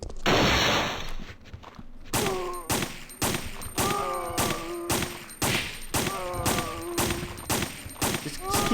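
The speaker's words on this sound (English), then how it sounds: "Just keep shooting until something happens." Gunfire rings out in Resident Evil 3: Nemesis, a loud, evenly spaced series of sharp shots after a burst of noise, each with a ringing metallic tail and a groaning tone between some shots.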